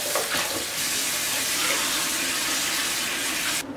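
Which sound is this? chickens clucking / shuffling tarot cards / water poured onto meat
water poured onto meat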